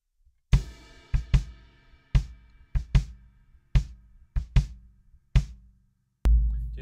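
Drum kit playing a song's pre-chorus in its original drummer's style: about ten punchy, separate kick and floor tom hits in an uneven pattern, close and dry, then a sudden crash cymbal at the end.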